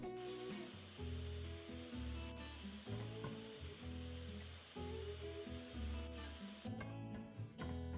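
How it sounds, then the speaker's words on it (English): A pressure spray hoses down a tank in the video game Tank Mechanic Simulator, a steady wet hiss running for several seconds over looping background music. "Might as well spray this one off while we're at it."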